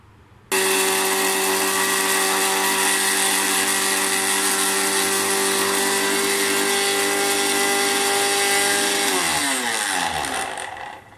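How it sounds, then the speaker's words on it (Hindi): An electric grinder whirs loud and steady as it grinds cardamom seeds, starting abruptly after a brief quiet moment and running continuously for about nine seconds before winding down with a falling pitch at the end. "अब हम इनको क्या करेंगे, ग्राइंडर में डालकर पीस लेंगे"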